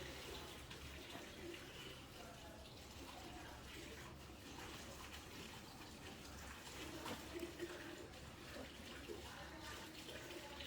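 Water running over cocoa peat being washed for orchid seedling potting, a continuous moderate rushing and splashing like a filling sink, steady for the whole stretch.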